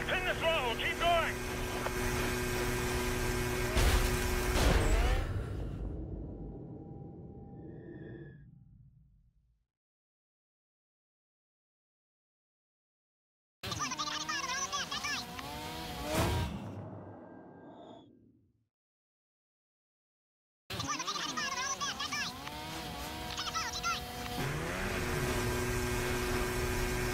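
A vehicle engine at full throttle in Call of Duty: Modern Warfare 2, a steady roar that rises and cuts out twice into silence, heard under radio-style dialogue.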